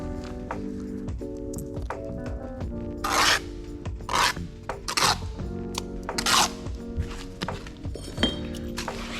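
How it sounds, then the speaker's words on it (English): A steel trowel scrapes and shoves mortar into the head joint between bricks. It gives repeated near, rasping strokes with dull knocks and small clinks in an uneven working rhythm. "We're shoving that mortar into the head joint"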